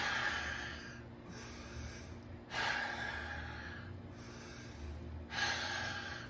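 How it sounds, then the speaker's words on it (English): Three deep inhalations come one after another at a steady pace, each a loud, close rush of air drawn in through the nose and mouth, with quieter pauses between them and no talking. "So breathing in."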